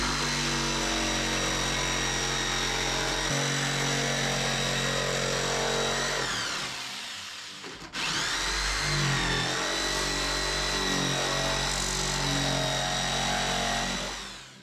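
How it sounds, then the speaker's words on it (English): A jigsaw cuts an outlet opening through wall sheathing in a shop, a loud, continuous buzzing whine that dips briefly partway through and then resumes for several more seconds. "now I have my jigsaw here"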